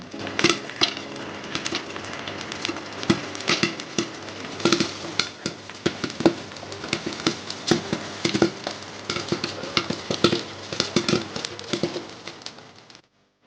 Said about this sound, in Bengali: এক হচ্ছে যখন পপকর্নগুলি ফুটতে থাকে